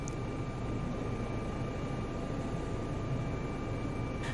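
An EC 135 helicopter in a flight simulator game hovers above a helipad, giving a steady, even drone of engine and rotor noise with no talking.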